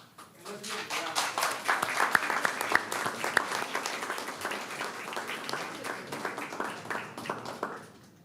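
Audience applause at a city commission meeting, rising quickly into a lively round of clapping with cheers and voices mixed in, then tapering off near the end.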